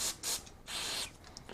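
Carburetor cleaner sprayed onto a Mercury two-stroke outboard carburetor during a rebuild, heard as three close hissing spray bursts, the last one longest, followed by quieter faint hiss.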